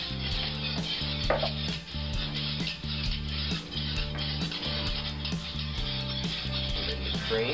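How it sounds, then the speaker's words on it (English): A whisk knocks steadily against a pot while stirring in half and half for mint chocolate chip ice cream, a regular clinking rhythm over a low steady hum. "I want to use a whisk for this."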